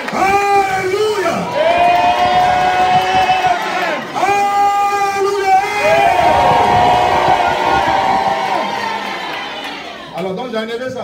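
Church congregation at a worship service in Guinea cheering and acclaiming the Lord, loud sustained crowd shouts and whoops with some raised voices, continuous and near throughout.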